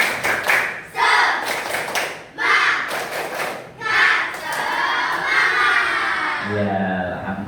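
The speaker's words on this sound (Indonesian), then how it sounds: "Kita tepuk semangat." A class of children does a rhythmic spirit clap, sharp bursts of clapping in a steady pattern with shouting voices between them, close and loud in a schoolroom, ending as an adult voice begins speaking.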